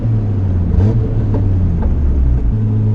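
A Honda CR-V launches hard in first gear with possible wheelspin, a loud close engine drone rising and wavering over road rumble, then briefly dropping near the end, with no speech.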